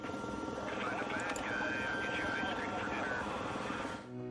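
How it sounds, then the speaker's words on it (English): A UAV drone in Battlefield Bad Company 2 hums with a steady rotor drone throughout, moderately close, while a higher whining engine tone rises and wavers midway before the sound cuts off near the end. "On several maps you can use a UAV drone."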